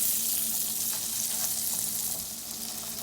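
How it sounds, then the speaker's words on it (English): Tilapia fillets pan-searing in butter in a skillet give a steady close hiss of frying, bright and even, with faint stirring movement and no voices. "I want to stir your butter around, make sure the tilapia is not sticking to your skillet."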